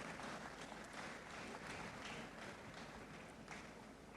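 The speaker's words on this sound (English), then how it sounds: "A round of applause for them, please." Audience applauding at a school graduation and achievers ceremony, a steady, dense wash of clapping that holds evenly throughout at a moderate distance, with no talk above it.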